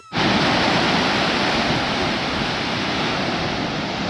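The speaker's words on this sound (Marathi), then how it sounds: "आणि अलकनंदा नदी बघा किती जोरात वाहते" Fast-flowing Alaknanda river on the Satopanth Lake trek in the Himalayas, a loud, steady broadband rush of water that fills the whole clip without a break, close and continuous with no voices.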